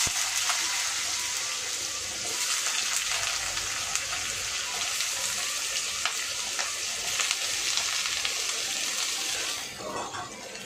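Potatoes dropped into hot oil with five-spice seeds for a capsicum potato curry, giving a loud, steady close-up sizzle and crackle throughout that eases slightly near the end.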